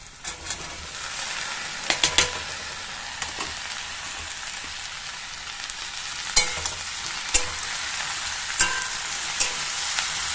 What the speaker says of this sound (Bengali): আলুটা হালকা হালকা ভাজা হলে এবার এর ভিতরে ভেন্ডিগুলো দিয়ে দেবো